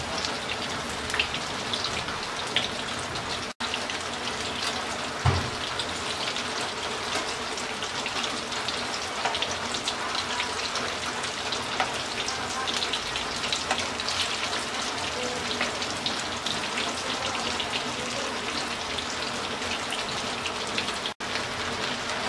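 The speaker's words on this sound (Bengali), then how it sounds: "এবার মিডিয়াম আছে উল্টিয়ে পাল্টিয়ে ব্রাউন কালার করে ভেজে নেব।" Cabbage shami kababs fry in oil in a pan over medium heat, giving a steady, even sizzle that runs unbroken and alone for the whole stretch.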